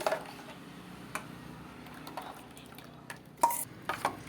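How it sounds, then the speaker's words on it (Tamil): Chocolate stirred into cake mixture in a bowl makes quiet, close scraping and soft irregular clinks of a utensil against the bowl, with a sharper tap near the end. "நாங்கள் சாக்லேட் போட்டு அதுக்கிட்ட நல்லா கலக்கிறோம்"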